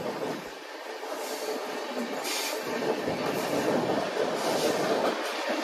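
The Kerala Express rumbles and rattles steadily as it slowly picks up speed, with continuous wheel and carriage noise and no voices.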